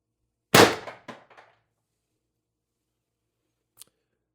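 A Mercury Rise TR50 air gun firing a single shot, one loud sharp crack followed by a few brief mechanical rattles, then a faint click after a pause.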